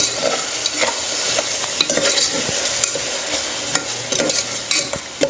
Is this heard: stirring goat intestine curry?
yes